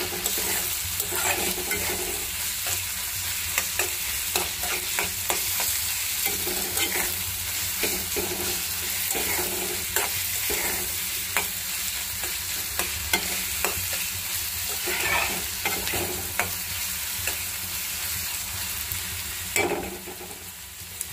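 Jute greens frying with garlic, green chili and onion, a continuous steady sizzle with irregular light scrapes and taps of stirring throughout, close and even in level.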